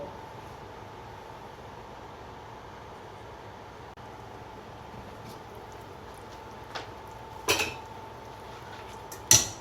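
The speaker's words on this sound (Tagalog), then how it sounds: "Takpan po ulit natin para po lumambot ang ating pinapakulo." A lid goes back onto a pot of simmering beef bone soup, with a quiet steady hum before a few metallic clinks and a louder clatter near the end.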